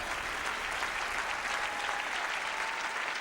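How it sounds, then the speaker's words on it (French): Steady, dense audience applause fills the whole stretch at an even level, a crowd clapping for a guest at a televised French evening honoring health workers, with no talk over it. "Demandez à l'applaudir"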